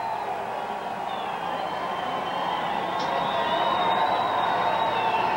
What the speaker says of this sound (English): they're getting already a great, rousing reception from the crowd on both sides of the street